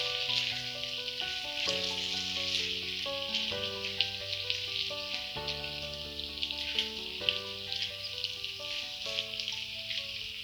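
Chopped tomato with a little salt sizzles steadily in a pan, a soft continuous frying hiss heard beneath louder background music throughout.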